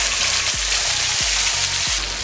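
Onion paste hitting hot oil with cloves, a loud, dense hiss of frying that holds steady, with a low rhythmic humming pulse running beneath it.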